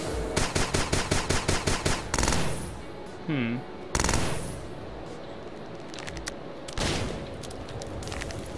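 Rapid bursts of gunfire from shooting in the video game Starbound, a quick train of evenly spaced shots followed by a few scattered blasts and a warbling effect, with a player talking in between.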